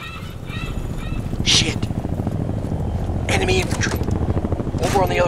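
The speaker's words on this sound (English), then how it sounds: "Russian choppers, man, they shouldn't be here." Russian military helicopters in the video game Battlefield Bad Company 2 thump and drone steadily beneath loud, continuous speech and bursts of gunfire-like noise.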